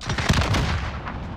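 Gunfire in the video game Call of Duty Warzone, a dense, continuous burst of shots with a booming low end, fairly loud and steady throughout.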